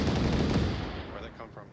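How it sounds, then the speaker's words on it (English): Gunfire exchange in the Onward VR military shooter, with dense rapid bursts trading back and forth at close range, loudest early and thinning toward the end under a busy game mix. "Then we got the gunfire exchange, uphill, downhill."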